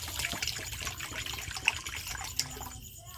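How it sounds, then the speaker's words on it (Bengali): Water poured into a pot to make sugar syrup, a soft, continuous trickling splash at moderate volume with a couple of small clinks near the end. "এখানে আমি জল দিয়ে দেবো পরিমাণ মতো। চিনির সিরাপ বানাবো।"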